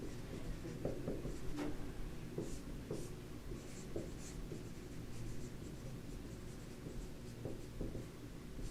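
Marker or chalk writing on a board during a lecture on the nervous system: steady close scratching and squeaky strokes, with short taps and pauses between words, and no voice over it.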